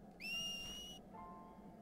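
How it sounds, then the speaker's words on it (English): In the video game Final Fantasy X-2, a pressed whistle calls Titus as a bright, steady whistled tone that holds for nearly a second. A softer, lower tone follows it, over a quiet game background with no talk. "you can whistle 4 times here by pressing X on certain points to make Titus appear and show her the way out"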